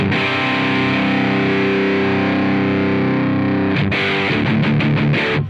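An electric guitar plays through a RAT distortion pedal model in AmpliTube 5, a loud held gritty chord ringing out, then a run of sharp chugged palm-muted stabs near the end, with no talking.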